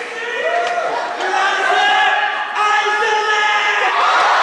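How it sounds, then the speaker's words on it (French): A large crowd at a Japan Expo concert sings along loudly to music, many voices joined in sustained, cheering melody that fills the space with no pause. "la foule continue à chanter sur la musique de Go"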